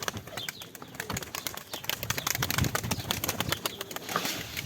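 A flock of young pigeons takes flight, with busy flapping wings and fluttering close by, soft coos and chirps mixed in, steady and continuous without any talking.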